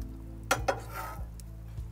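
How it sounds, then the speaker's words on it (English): Salmon meets a hot plate inside a wood-fired oven, with two sharp metallic clinks followed by a soft sizzle and faint scraping, all fairly quiet and heard without voices. "we're going to put the salmon on, the hot plate's in there"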